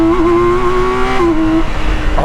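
A BMW K1600B motorcycle with a Stage 1 tune pulls hard in second gear, its loud, close engine note climbing steadily and then dropping as the rider shifts or eases off.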